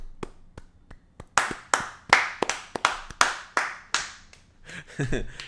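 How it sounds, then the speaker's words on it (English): A series of light, sharp hand claps, a dozen or so at an uneven pace, starting soft and growing louder, with a voice briefly at the end. "Give him a little golf clap."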